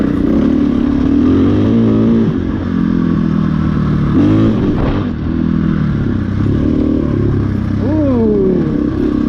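A 2022 KTM 500 dirt bike runs continuously on an off-road ride, its engine note rising and falling through throttle changes, loud and close under constant wind and rider-camera rumble.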